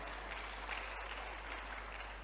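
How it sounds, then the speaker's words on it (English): Audience applause fills a hall at a motivational talk, a steady dense wash of many hands clapping continuously without pause, moderately loud and with no speech over it. "Clap for them well."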